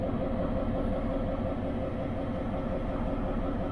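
Two diesel locomotives idle in cold weather at a rail station, giving off a steady, loud, low rumble with a constant engine throb and no talk.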